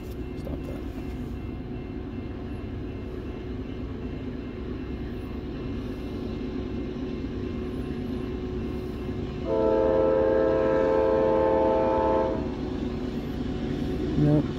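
CSX freight train rumbles past with steady wheel and car noise, and its horn blares for a few seconds midway; people speak briefly nearby.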